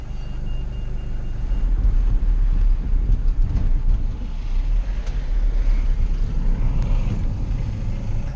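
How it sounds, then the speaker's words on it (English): Riding inside a black cab taxi in Bromley, with a steady, loud low road and engine rumble filling the cabin throughout and no talking. "I'm in a black cab in Bromley"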